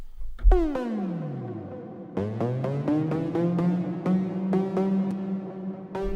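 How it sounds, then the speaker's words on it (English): A bright, screaming synth lead from a Serum patch plays a sustained melody with gliding pitch bends, several retriggered notes, and dense buzzy harmonics, loud and up front. "it's very screamy kind of lead"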